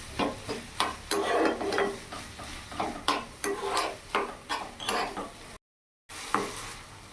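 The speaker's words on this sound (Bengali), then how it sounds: "ভালো করে নাড়াচাড়া করে কিছুক্ষণ ভেজে নেব" Spinach and paneer kachori filling being stirred and fried in a pan, with repeated scraping strokes over a soft sizzle, close and steady, then a brief dropout of silence before the stirring resumes.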